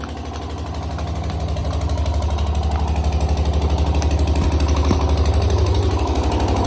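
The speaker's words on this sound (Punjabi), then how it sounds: "ਭਾਜੀ ਬੰਦ ਕਰ ਦਵਾਂ ਜਨਰੇਟਰ ਥੋੜੇ ਟਾਈਮ ਲਈ" A generator engine runs steadily and close by, its loud, even drone holding unbroken throughout with no talk over it.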